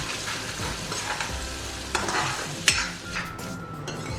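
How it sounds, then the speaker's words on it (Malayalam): Ground onion, tomato and masala paste sautéing for an aloo gobi curry, a steady sizzle broken by occasional scraping stirs and a sharp clink, close and moderately loud. "അരച്ച് വെച്ചിരുന്ന ഉള്ളി, തക്കാളി, മസാല എല്ലാം കൂടെ ചേർത്ത് അരച്ച് വെച്ചതാണ് ഇത് നല്ലതുപോലെ വഴറ്റി കൊടുക്കാം."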